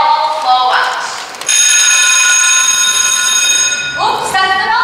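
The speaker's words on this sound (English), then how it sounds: "Oops, that's the bell." A school bell rings during a high school Sing! stage performance, giving a loud, sustained metallic tone lasting a few seconds, with voices talking just before and after it.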